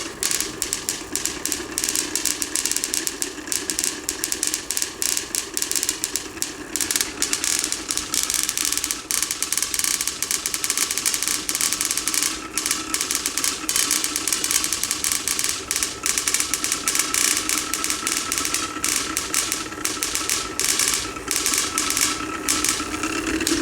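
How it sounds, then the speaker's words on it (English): A rotary spark gap sparking on a homemade magnifying transmitter, a loud, continuous rapid ratcheting buzz with harsh crackle that runs steadily throughout, close and dense, with no talk. "It'll catch on in a minute. The rotary spark gap, that is."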